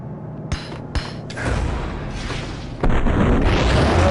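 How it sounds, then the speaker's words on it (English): Grenade blast in the Max Payne video game: two short sharp pops, then a rumbling boom and a louder burst of game action that continues to the end, with no talk. "I will never escape this grenade"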